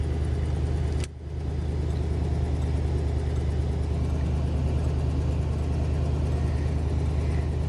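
Truck engine running on wood gas, no gasoline, idling at an intersection: a steady low rumbling drone throughout, with one brief dip near the start.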